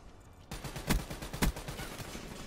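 Black Ops III gunfire breaks out suddenly as a dense rattle of rapid shots, with two heavier blasts standing out in a loud, close burst.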